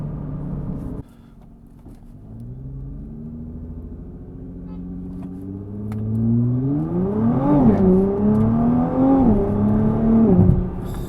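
A Nissan GT-R T-Spec launches hard on launch control along a private road, its engine droning loudly and the revs climbing steadily through several automatic upshifts, each marked by a brief dip and fresh rise in pitch.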